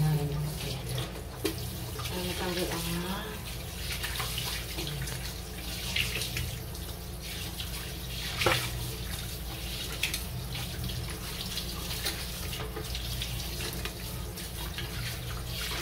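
Dishes washed under a running kitchen tap: a steady, close rush of water continues throughout, broken by occasional clinks and knocks of dishware.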